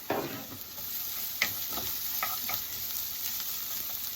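Ginger sautés in a pan for ginataang sigarilyas, giving a low, steady sizzle broken by a handful of quick scraping stirs.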